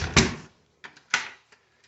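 A door in a 1953 brick-front ranch house bangs shut, two sharp slams with a softer knock and rattle between them, close and loud in a quiet room.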